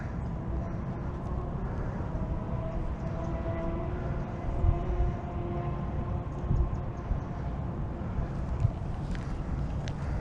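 Wind blowing outdoors at a fishing spot, a continuous low rumble and buffeting across the microphone, steady throughout with a faint mechanical hum underneath.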